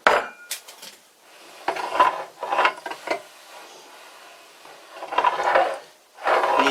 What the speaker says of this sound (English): The sound you hear is the plate I installed on the clamp here to keep it from turning.